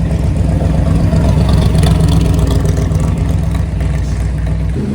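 A Ferrari 250 Testarossa engine runs loudly and steadily at a Monterey Car Week gathering, a deep continuous rumble heard close by with no speech over it.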